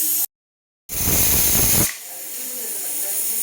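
A pressure cooker of mutton masala curry releasing steam as a loud, close, broadband hiss that cuts off briefly, then surges back for about a second before dropping to a softer, steady rush.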